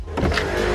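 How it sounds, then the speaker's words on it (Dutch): A Vespa ladies' scooter goes by, its motor a short, fairly loud buzz that swells briefly and carries on steadily for under a second. "Wat komt daar aan? Een Vespa. Damescooter."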